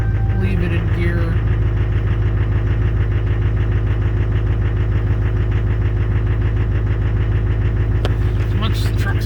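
A 2005 Duramax LBZ diesel pickup truck engine idles after a cold start, a steady loud rhythmic diesel clatter close by throughout, with someone talking over it.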